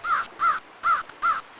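A crow caws four times in an even, evenly spaced sequence, loud and close, used as a sound effect in a spoken story about a prophet sending a crow to search for land.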